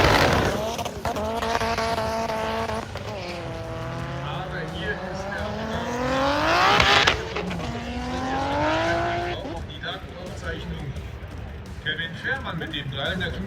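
A 350 hp Opel Corsa C drag race car runs at a drag strip in Germany, its engine note climbing through several gear changes at high revs before fading, while a commentator talks over it.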